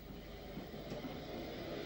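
A J4 class 0-6-0 steam locomotive hauls a train on the Youghal branch in 1960s Ireland, giving a steady, moderately distant rumble of wheels and running with no clear beats.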